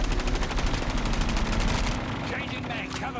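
Rapid automatic gunfire in a Call of Duty match, loud continuous bursts and shots filling the clip, with a voice talking over the game action.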